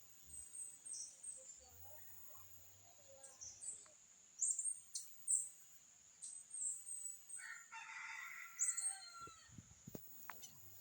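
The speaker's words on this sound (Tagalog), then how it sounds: "may narinig akong tumitilaok sa itaas" A rooster crows from somewhere overhead outdoors, faint and distant, in a few short calls among other chirping birds and quiet ambient noise.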